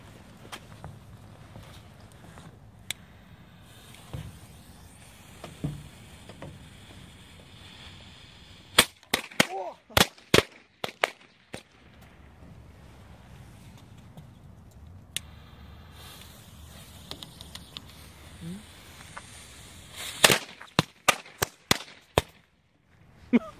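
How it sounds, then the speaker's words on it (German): Knallfrosch jumping-jack firecrackers crackling on New Year's Eve, rapid irregular sharp pops in clustered bursts over a steady outdoor background hiss, fairly close. "Knallfrosch."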